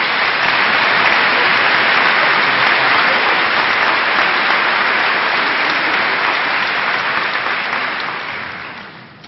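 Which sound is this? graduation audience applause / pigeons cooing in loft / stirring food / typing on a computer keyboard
graduation audience applause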